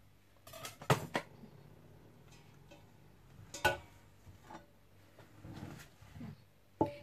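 Metal cooking pot clanks and knocks while beef shank is prepared for bún bò Huế, with a few sharp clatters scattered among quieter handling sounds and no talk.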